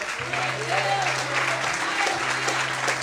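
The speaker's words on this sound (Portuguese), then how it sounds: "Mais forte, as palmas ao Senhor." A church congregation claps continuously at an evening service, a steady wash of applause under a sustained low hum or organ-like tone, with a voice speaking faintly over it.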